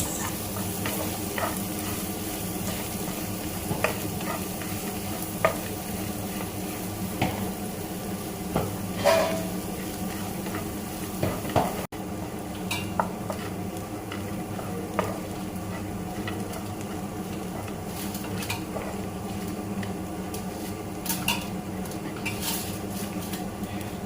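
Tamarind-leaf paste with turmeric stirred and fried in a pan, a steady sizzle under repeated scraping and tapping of a spoon against the pan, close and continuous throughout.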